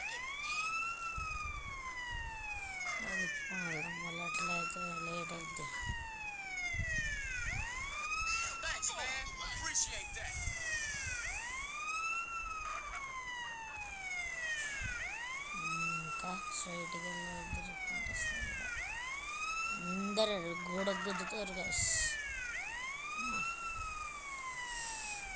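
A wailing emergency siren from an ambulance in Grand Theft Auto, driven by CJ on an ambulance mission, cycles up and down continuously for the whole stretch, while someone talks over it throughout and brief engine and crash noises break in.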